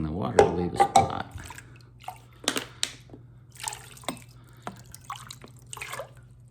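Water drips from a freshly washed glass in scattered, uneven drops over a low steady hum, close and fairly distinct.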